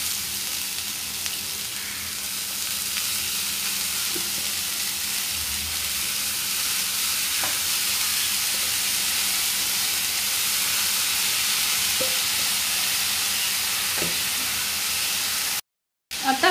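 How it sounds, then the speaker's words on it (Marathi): Dill leaves (shepu) with moong dal stir-frying in a pan, giving a steady, loud broadband sizzle with occasional faint clinks of stirring, ending in a brief cut to silence. "परतून घेऊया व्यवस्थित परतून घेतल्यावर आपण यात आता भाजी घालणार आहोत"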